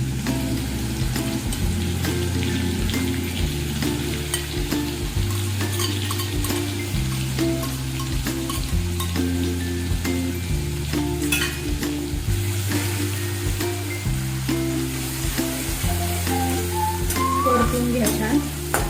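Cumin seeds and green chilies fry in hot oil for sabudana khichdi, a steady loud sizzle running the whole time with stirring scrapes and a faint musical backing underneath.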